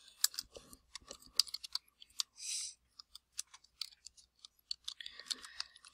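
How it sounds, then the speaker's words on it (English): Quiet, close clicking of a computer keyboard as a short text label is typed in Excel, irregular keystrokes with a few pauses and no voices. "we're going to type space annual"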